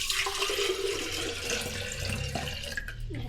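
Water poured into a cooking vessel in a kitchen, a steady rushing, splashing stream that runs for a few seconds without any talking over it.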